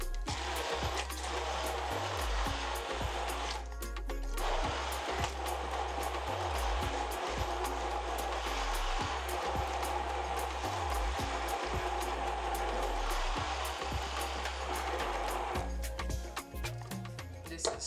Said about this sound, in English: I'm going to go ahead and puree the mangoes